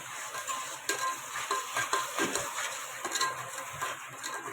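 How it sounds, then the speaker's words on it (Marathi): Spice masala frying in oil for misal pav: a close, continuous sizzle broken by frequent spoon scrapes and taps against the pan. "हा पण मसाला चांगला तेलामध्ये मसाल्यामध्ये फ्राय झाला पाहिजे"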